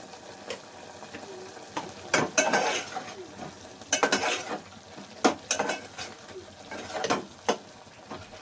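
Spices frying in a jackfruit seed gravy make a soft sizzle under intermittent bursts of stirring, with spoon scrapes and clinks against the pot, no voices.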